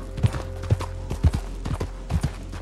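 Horse hooves clip-clopping at a steady riding gait in Red Dead Redemption 2, a run of close, distinct thuds over a low hum of game ambience, with no talk.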